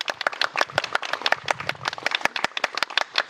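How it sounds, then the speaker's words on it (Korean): An audience claps to welcome a speaker at a Catholic Marian evening gathering, irregular clapping of individual hands in a small hall, moderately loud and fading in intensity, with no voices. "모두 박수로 맞이해주세요"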